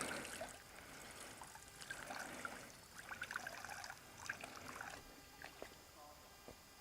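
Water is scooped by hand into a cloth pre-filter bag, giving soft splashing and trickling that stays faint and close throughout.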